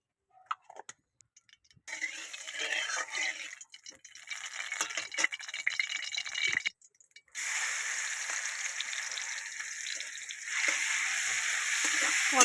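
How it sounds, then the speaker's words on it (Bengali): Salted, turmeric-coated shrimp fry lightly in a pan, giving a steady crackling sizzle that starts after a few quiet seconds and runs on, growing slightly stronger with occasional stirring ticks. "অল্প করে চিংড়িটা ভেজে নেব, হালকা করে চিংড়িটা আমি ভেজে নেব।"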